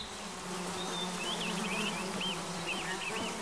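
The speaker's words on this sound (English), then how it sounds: "Buzzing flies lead them to a zebra carcass." Flies buzz steadily around a zebra carcass in the African bush. The continuous insect drone is moderately loud, and a faint bird call runs along with it.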